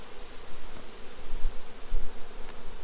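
Honey bees buzz at an open hive during fall preparation in late September, a close, continuous droning hum that swells and dips slightly throughout.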